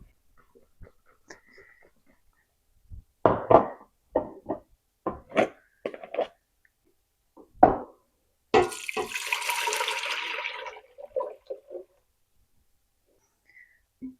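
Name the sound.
milk being poured into a pan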